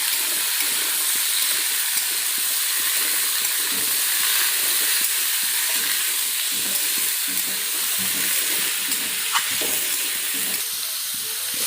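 Pumpkin pieces tipped into a pan of fish head cooking in oil, giving a steady loud sizzle and hiss with faint stirring scrapes and no talking.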